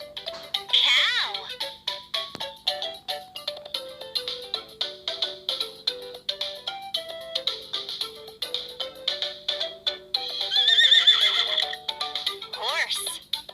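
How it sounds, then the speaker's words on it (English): A synthesized horse whinny opens and closes a rapid, even stream of clip-clopping hoofbeats, bright and toy-like rather than recorded outdoors. "Horse has hooves."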